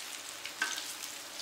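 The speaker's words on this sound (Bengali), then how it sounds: "আমাদের ইফতারির জন্য ডিমের চপগুলো ভেজে নিচ্ছি" Egg chops frying in hot oil give a faint, even sizzling hiss close by, with one small pop, brief and without talk.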